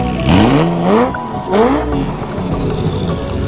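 A Ferrari competition car engine revs hard twice, pitch sweeping upward each time, then settles into a steady mid-pitched drone nearby.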